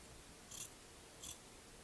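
Two quick, quiet snips of scissors cutting fabric for soft pants, evenly spaced and faint against a hushed room.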